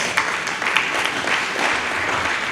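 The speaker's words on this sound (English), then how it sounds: "give Right Honorable Dr. Abike Dabirerewa another round of applause." A short burst of audience applause, steady clapping from a sizable crowd at moderate volume at an investment summit.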